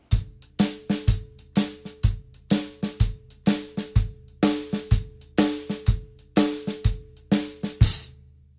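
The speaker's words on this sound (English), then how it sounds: "It's a shuffle groove, and it's gonna mostly be on the hi-hat" A slow swung shuffle groove on a drum kit, played mostly on the hi-hat with kick and snare, repeating steady accented strokes in a loping rhythm, close and loud with no talking.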